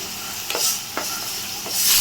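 Sliced banana stem fries in a pan with poppy seed paste, turmeric and salt, giving a steady close sizzle broken by a few scraping stirs of a spatula against the pan.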